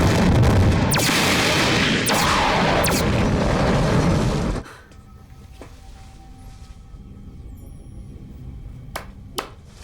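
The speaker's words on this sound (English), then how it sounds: "Cannons charged." Spaceship cannons fire in a science-fiction TV series: a sustained roaring barrage with sharp blasts for about four seconds, cutting off abruptly, then a few scattered sharp cracks over a low rumble.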